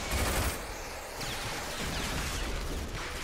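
Machine gun fire from the video game RAGE, a continuous dense roar of rapid shots under game ambience, fairly loud and steady throughout with no talk over it.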